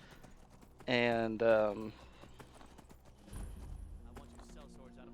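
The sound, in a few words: horse hooves clip-clopping in video game Skyrim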